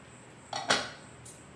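A plate is lifted off a covered pot of smoked chicken biryani, giving two or three close metallic clinks and a short scrape of steel on steel, then quiet.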